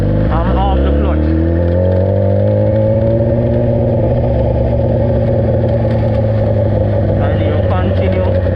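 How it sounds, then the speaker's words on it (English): Motorcycle engine revving steadily as throttle is applied and the clutch is released to pull away in Jamaica, a loud, continuous near drone rising in pitch, with someone talking over it. "you give it that application of throttle like this. I'm off the clutch."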